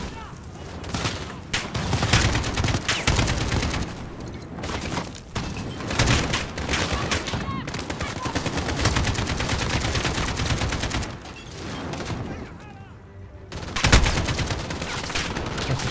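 Gunfire from the Call of Duty Modern Warfare video game crackles in loud, rapid bursts and volleys, dense exchanges with brief pauses between, and a player's voice mixed in at times.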